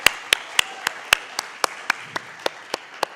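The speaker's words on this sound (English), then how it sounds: "So maybe a round of applause for them in advance." Scattered handclaps from an audience at a CHIL 2025 conference session, a dozen or so sharp claps spaced evenly across a few seconds, fairly close and without voices, like a small, sparse round of applause.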